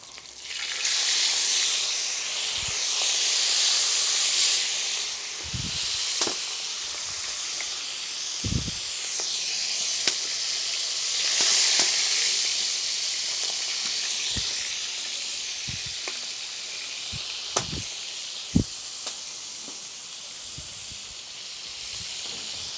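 Pork steak pan-fries outdoors with a continuous hissing sizzle that swells and eases, punctuated by scattered sharp pops and clicks close at hand.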